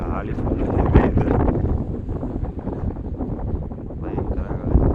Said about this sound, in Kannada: ಗಾಳಿ ಫುಲ್ ಹೆವಿ ಇದೆ